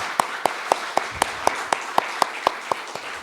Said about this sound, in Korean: 그런 의미에서 우리 다음 세대 자녀들을 위해서 박수 한번 쳤으면 좋겠습니다.